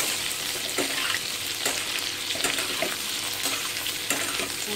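Onions frying in a pan for matar paneer, a steady close sizzle with soft stirring scrapes and small bursts throughout, no voices.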